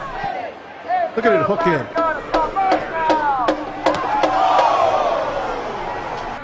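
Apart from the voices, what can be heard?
stadium crowd being fired up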